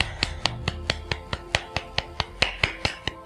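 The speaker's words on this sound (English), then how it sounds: "with the left, you're just going to start tapping the palm, kind of like a golf clap in that sense" A hand taps steadily on the other palm in a soft golf-clap style, producing about fifteen crisp, evenly spaced light pats that are close and clear with no talking.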